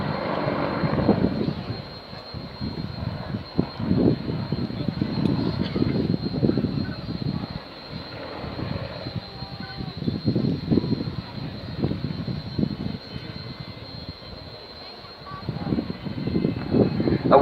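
Apache attack helicopter in a simulated dive manoeuvre, its engine and rotor drone a steady rumbling roar with pulsing low thumps throughout, with a voice talking over it.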